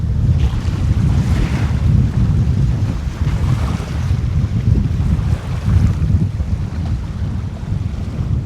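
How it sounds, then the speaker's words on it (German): Strong, cold wind buffets the microphone on an exposed coast in the Shark Bay region. It makes a loud, continuous low roar with gusty surges and the wash of surf beneath, and there is no talking. "der Wind ist doch ziemlich heftig und ziemlich kalt auch"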